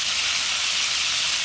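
Chicken pieces fry in a pan for Jamaican brown stew chicken, giving a steady, dense, close sizzle with no break and no talk.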